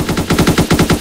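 Loud, rapid automatic gunfire from a shootout in the Roblox game Salvage, a dense unbroken stream of shots in quick rhythm, close and forceful throughout.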